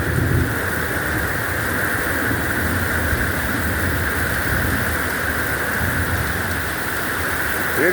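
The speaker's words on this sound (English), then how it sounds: "Hear the thunder?" Steady, loud rain falls throughout a thunderstorm after a dry spell, with a low rumble of thunder rolling beneath the constant hiss of the downpour.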